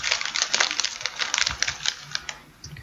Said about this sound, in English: Who's typing? Who's typing?